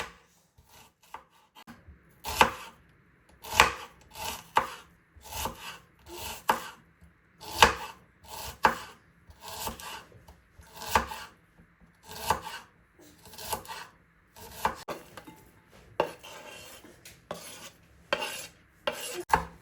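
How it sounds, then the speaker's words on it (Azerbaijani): Repeated knife strikes on a cutting board as a red onion is chopped, sharp taps in bursts with short pauses between, close and clear. "Soğanı iri ama incə doğramağa diqqət edin."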